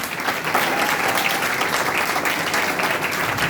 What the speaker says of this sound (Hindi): आइए उस यीशु के लिए जोरदार ताली।